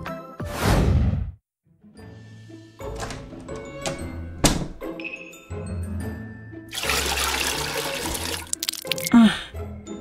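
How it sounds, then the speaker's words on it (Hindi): Water is poured into a gift container in a short burst, followed by knocks, thunks and clattering handling sounds, then a longer stretch of splashing flow near the end. "अपना तोहफा ले लो और उसमें पानी डाल लो"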